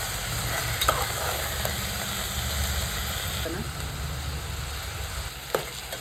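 Sprouted beans are stirred and sautéed in hot oil for a Kannada-style saaru, a steady close sizzle with scraping stirs in the pan and a few sharp clinks, with a voice talking at times.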